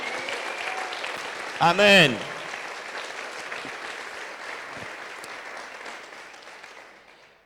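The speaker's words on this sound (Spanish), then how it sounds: "Dale un aplauso a Él." A church congregation at a conference workshop breaks into sustained, broad applause right after a voice calls out a single word, the clapping holding steady and then tapering off toward the end.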